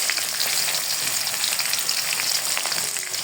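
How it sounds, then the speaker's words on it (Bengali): Chopped onions fry in hot oil for a beef curry, making a dense, continuous close-up sizzle and crackle with no talking. "এই পর্যায়ে পেঁয়াজটা দিয়ে দিব তারপর ভাজা হয়ে গেলে"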